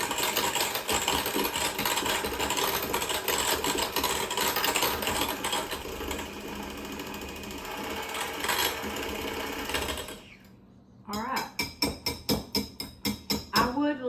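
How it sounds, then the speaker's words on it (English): Electric hand mixer blending a low-carb chicken cordon bleu casserole mixture, a steady close motor whir running about ten seconds, then brief short pulsed bursts as it stops and restarts. "Use my electric mixer if I were y'all because it makes it really smooth"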